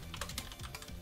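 Fingers type quickly on a computer keyboard during a Smite match, producing a close, steady stream of soft clicking keystrokes with no talk over them.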